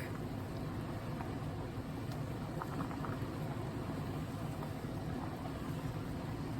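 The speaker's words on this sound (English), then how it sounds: "so that's boiling nicely" A steady, low rumbling bubble of water boiling in a pot, continuous and fairly quiet throughout, with faint pops and no voices.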